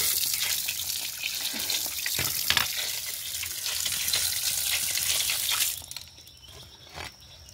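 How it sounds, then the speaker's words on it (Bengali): Water runs and splashes over a stone grinding slab as it is rinsed, a continuous close rushing and trickling that stops abruptly near the end, leaving a few faint drips and clinks. "তার সঙ্গে সঙ্গে পাটাও একটু ধুয়ে নিই, ধুয়ে নিলাম।"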